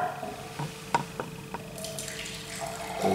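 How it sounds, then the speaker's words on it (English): Homemade mulled wine poured into a glass, a close, quiet trickle with a few small drips and splashes and a steady liquid stream, heard alone. "So now I'm just going to pour this into a lovely glass again."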